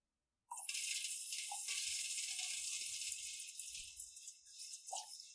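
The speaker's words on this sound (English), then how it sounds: "then I poured it all into a can full of water" A molten metal mixture is poured into a can full of water and sets off a sudden, loud, sustained hiss that lasts about five seconds. Faint rattles and low bubbling run beneath it as it slowly fades.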